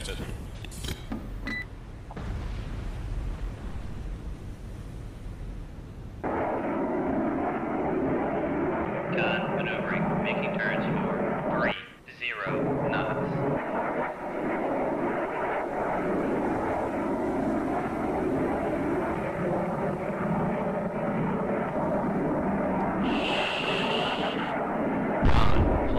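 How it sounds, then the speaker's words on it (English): An aircraft launching from a Nimitz carrier in Cold Waters, a steady loud jet engine roar building and holding under radio voice callouts, with a brief drop midway and a hiss near the end. "Con, Flyco, launching aircraft."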